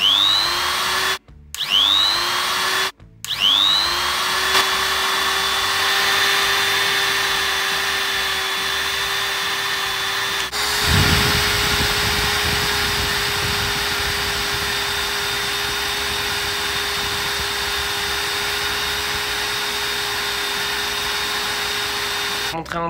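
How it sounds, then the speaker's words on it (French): A rotary polishing brush whines steadily as it polishes a small handmade watch, starting and stopping twice early on before running continuously, then taking on a rougher, scrubbing tone once pressed against the piece. "On va venir justement mettre un petit coup de polish sur cette petite montre."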